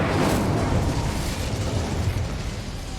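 Incendio fire spell cast in the Hogwarts Legacy video game, a loud sustained whooshing roar of flame with a bursting onset, continuous for about three seconds with no talk.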